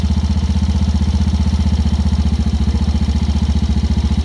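A 2016 Yamaha Raptor 90 ATV idles while warming up after carburetor cleaning and repair. The engine holds a loud, close, steady pulsing putter throughout.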